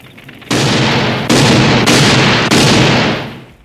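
Loud gunshots fired at Dracula in the 1987 film The Monster Squad, four heavy overlapping blasts about 0.6 to 0.8 seconds apart, each a sharp broadband crack with a booming tail that decays slowly.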